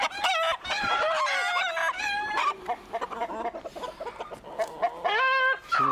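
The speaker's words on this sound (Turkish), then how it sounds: "Değişik bir horoz." Young rooster crowing on a farm, several loud, close calls in a row with brief clucking between them, and no voices present.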